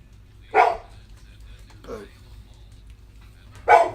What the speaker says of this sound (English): dog's excited about that one as well.